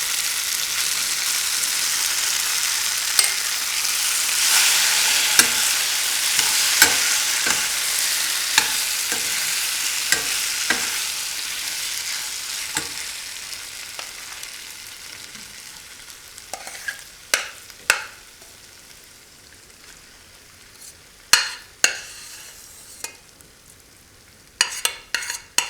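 Kitchadi is stirred in a pot off the stove with a soft hiss under repeated scraping and knocking of a spoon, near and irregular, the clacks growing sharper and more spaced toward the end, with no talking.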